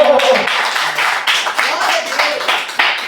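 Congregation clapping in a church service, fairly loud rhythmic hand claps with voices calling out over them throughout.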